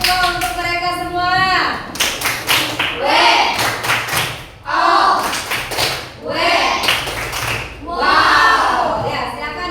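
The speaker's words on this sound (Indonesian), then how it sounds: "Coba beri tepuk tangan untuk mereka semua." Students in a classroom clap for a group of classmates, a few seconds of scattered hand claps mixed with children's cheering and voices.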